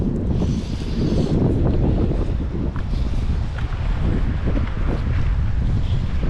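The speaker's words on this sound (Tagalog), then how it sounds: "Lakas ng hangin, no?" Strong, steady wind buffets the microphone with a constant low roar, loud and unbroken throughout.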